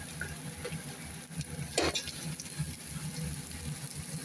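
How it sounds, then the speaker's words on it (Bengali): Masala and vegetables frying in hot oil in a pan, a close, steady sizzle with stirring scrapes and a few sharper clinks and crackles over a continuous background hiss. "এটা এখন মশলাটা ভাজবো"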